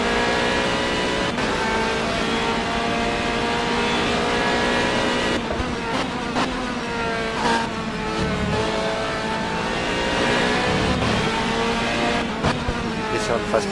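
Race car engines roar in the Sebring 12H racing game, high revving tones rising and falling through gear shifts, loud and continuous with someone talking over them.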